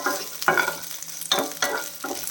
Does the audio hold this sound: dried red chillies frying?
yes